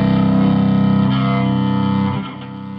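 Electric cello played through a DOD 250 Preamp/Overdrive pedal, a loud, buzzing distorted sustained note with rich harmonics that shifts pitch midway and then fades slightly.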